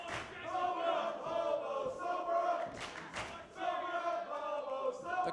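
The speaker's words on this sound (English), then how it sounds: "The crowd behind the Hobo here trying to get him some energy to get Mikey O'Shea back in that ring." Crowd at a tag-team wrestling match cheering for a wrestler, a steady wash of many voices with rising shouts and swells, heard at moderate level throughout.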